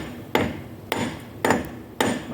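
Four evenly spaced hammer blows strike a truck's automatic locking wheel hub, each a sharp metallic whack with a short ring-out, close and moderately loud, no voices.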